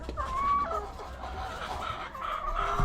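Chickens cluck and call inside a backyard coop, several birds heard close with overlapping clucks and short squawks over a low background hum.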